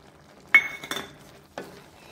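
Oats upma with tomato gets stirred in a pan: a few sharp metal spoon scrapes and clinks against the pan, quiet between strokes.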